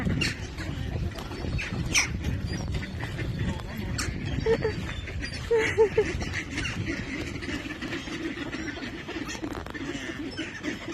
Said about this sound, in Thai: ดูน้องเป็ดที่เยอะมากเลย